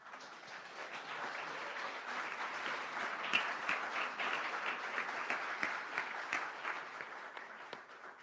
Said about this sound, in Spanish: pues un aplauso, diría yo